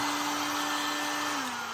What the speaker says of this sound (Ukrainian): Береться ось такий фен строїтельний. Ну, Розігріваємо,